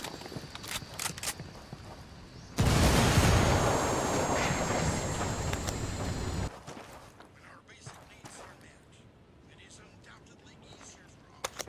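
A frag grenade goes off in the tactical shooter Ghost Recon Wildlands with a sudden loud blast whose roar lasts about four seconds, then falls back to quieter ambience and faint movement.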